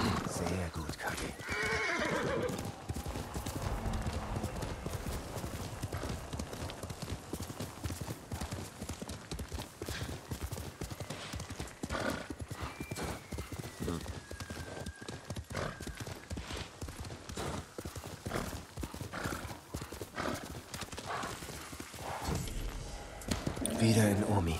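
Rhythmic hoofbeats clip-clop steadily throughout, with a horse whinnying briefly, over busy game sounds and a person talking, in Ghost of Tsushima on PS4 Pro.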